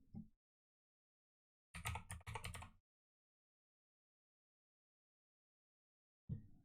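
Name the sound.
typing on a computer keyboard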